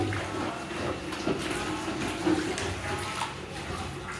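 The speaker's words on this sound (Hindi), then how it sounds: "पानी डालो सारा सफाई" Water poured across a floor to wash down a room during cleaning, a steady broadband splashing and rushing with brief louder gushes, fairly close, with faint voices underneath.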